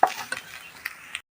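Grated coconut being roasted and stirred in a pan, with close scraping and light sizzling and several sharp clinks of the spoon against the pan over a short burst.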